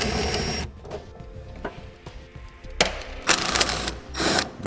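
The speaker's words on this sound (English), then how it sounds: "There's a nut there and back there that we're going to be removing with a 10mm socket." A ratchet with a 10mm socket loosens fuse box nuts on a 2017 Jeep Renegade, heard as bursts of close mechanical clicking with quieter gaps between them and no talking.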